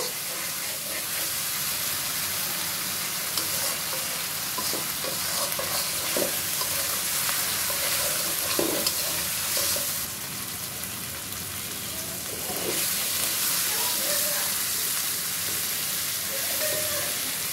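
Small hilsa fish heads sautéing with spices in a pan: a dense, constant frying crackle close up, with occasional spatula knocks and scrapes, no voices, the sizzle dipping briefly before picking up again.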